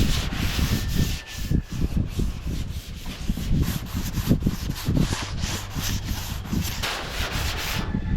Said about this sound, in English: Well, I got the top of the roof on this thing sanded, kind of wet sanded